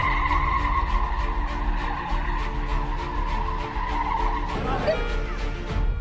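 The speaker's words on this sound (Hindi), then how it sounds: "तेज स्पीड में थार को 360 डिग्री पर घुमाया।" A Mahindra Thar spun in 360-degree circles at high speed, its tires skidding and squealing continuously over a steady engine roar, with a sharper scrape near the end.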